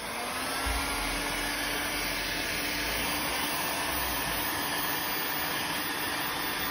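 A heat gun blows hot air over a car bootlid spoiler, a gloss-black Maxton Design part for an Audi A6 C7 saloon, making a continuous, even, moderately loud whoosh that holds steady from start to finish.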